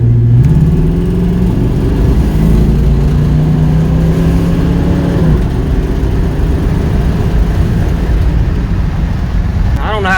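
A car engine with a distributor fault revs while driving, droning loudly and unevenly as its pitch climbs, wavers and drops, struggling and sputtering at close range without any talk.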